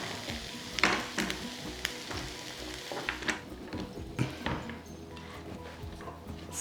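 Peas and potatoes frying in a pan and stirred through, a steady close sizzle broken by irregular scraping and knocking of the spoon against the pan, no talk.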